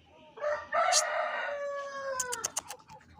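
A rooster crows once, loud and close, its long drawn-out call trailing off, followed by a few short sharp clucks.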